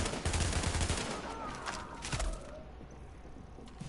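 Sniper and other gunfire in the shooter game Tom Clancy's The Division, loud sharp shots crowding the first two and a half seconds before fading into quieter ambient game sound.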